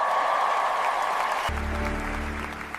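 Applause and cheering ring out through a school auditorium for a top student, a dense, steady roar of many hands that shifts abruptly midway into a lower, fuller wash before fading slightly.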